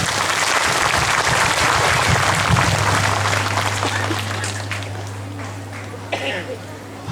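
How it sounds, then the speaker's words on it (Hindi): Loud applause from a church congregation at a diamond jubilee celebration, dense and sustained, then thinning out toward the end while a steady hum and voices continue underneath. "हमें जोर से ताली बजा।"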